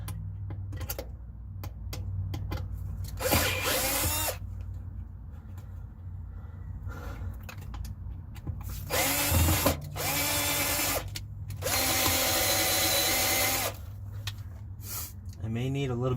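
A power drill bores a pilot hole in an RV bathroom floor in several short whirring bursts that rise and stop, separated by pauses, with someone talking in between.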